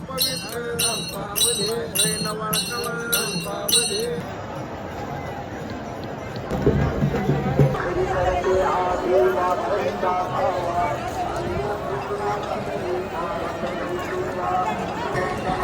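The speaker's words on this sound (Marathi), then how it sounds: "खूप गर्दी आहे दर्शनासाठी" Dense crowd of pilgrims at the Pandharpur temple on Ashadhi Ekadashi, a continuous murmur of many voices with bell-like ringing at the start and a louder swell partway through.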